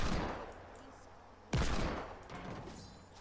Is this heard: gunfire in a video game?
yes